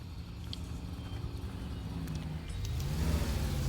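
Car engine driving in the L.A. Noire video game, a steady low rumble that swells slightly louder toward the end, heard alone without talk.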